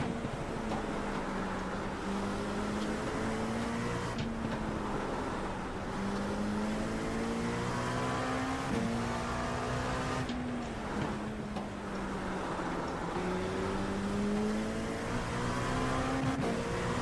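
GTP prototype race cars in a multi-class iRacing race at Spa-Francorchamps, with loud high-revving engines whining through repeated gear changes and rising, falling pitch as cars close in and pass, steady and close throughout.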